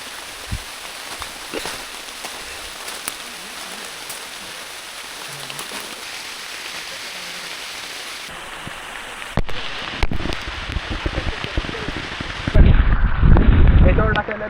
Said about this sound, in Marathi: पाऊस काही थांबतच नाही, चालूच आहे.